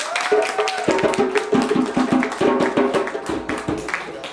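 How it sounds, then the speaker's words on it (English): Audience applause at a live awards show welcoming a performer to the stage: a dense, fairly loud patter of claps with a rhythmic pulse, over a faint sustained tone. "Please give a large round of applause for Brother Oscar Sanders."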